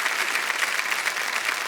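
A TV quiz-show studio audience on KBC India applauds a contestant: continuous, even clapping of moderate loudness that carries steadily through the moment, with no speech.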